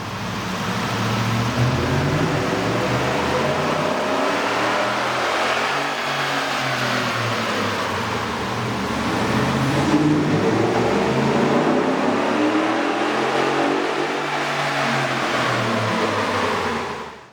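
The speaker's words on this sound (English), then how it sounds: "You can really see and hear the difference the K&N air intake system will make to your truck." A 2010-2014 Ford F-150 SVT Raptor 6.2L engine with a K&N air intake revs up and down in long swells, a deep throaty roar with an intake whoosh, loud and close throughout.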